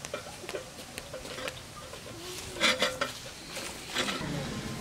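Dishes and pots handled in a home kitchen, giving scattered clinks and clatters with a few louder knocks near the middle and end, steady and close with no talk.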